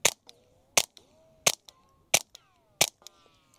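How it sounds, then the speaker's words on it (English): A .22 rifle with a suppressor fires subsonic 970 fps rounds: five crisp, close snapping shots spaced roughly two-thirds of a second apart, each trailed by a faint metallic ring, with no voices. "So yeah, very quiet suppressed."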